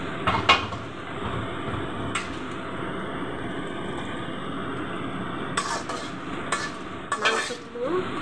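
Meat is stirred into pulao in a pot for chicken biryani: a spoon scrapes and clinks against the metal in scattered bursts over a soft background, with a few sharper knocks near the start and end.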